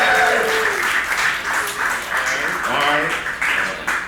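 Loud crowd cheering rises over sustained applause, with whoops and voices carrying through the whole burst.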